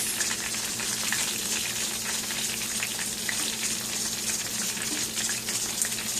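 Catfish fries in a pan with a steady, loud sizzle and crackle of hot oil, continuous throughout with no talking.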